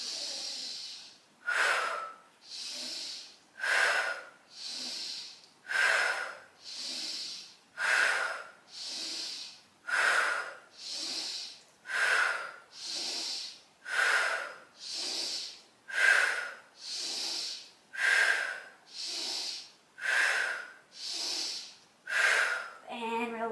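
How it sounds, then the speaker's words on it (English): Deep, rhythmic breathing during a guided breathing exercise: about seventeen steady inhale-exhale cycles, each a close, airy rush that swells and fades at an even pace. "Inhale."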